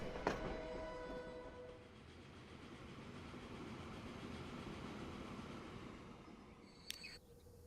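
Train pulling out in the rail-management game Transport Fever 2, a steady low rumble of rolling wagons with faint clicks and creaks, fairly quiet and without talk.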